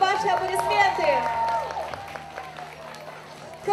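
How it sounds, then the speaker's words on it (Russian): An audience at a talent competition ceremony applauds an announced guest, a broad wash of clapping under a speaking voice that carries over it. Crowd noise swells and then eases slightly toward the end. "ваши аплодисменты"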